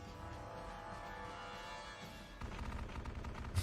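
Twin .50 cal heavy machine guns firing in the game Konflikt '47, a dense continuous burst of rapid gunfire that grows louder and heavier partway through, with no talk over it.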